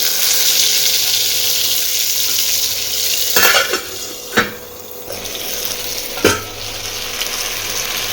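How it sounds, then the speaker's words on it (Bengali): Eggplant pieces fry in a wok with a steady, close sizzle, broken by a few sharp metallic clanks and scrapes as the pan is stirred. "এবার বেগুনটা ভাজবো।"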